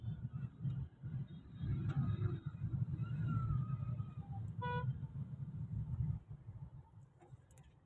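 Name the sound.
road traffic with vehicles passing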